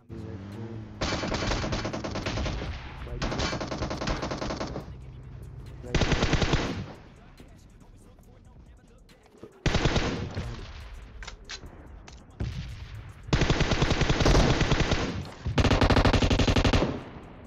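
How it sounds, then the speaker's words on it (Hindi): Bursts of rapid automatic gunfire in PUBG come in several rounds with short pauses between, loud and dense, with brief quieter gaps. "मेरे पे साइड से गोलियां पड़ती हैं"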